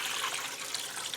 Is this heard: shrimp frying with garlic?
no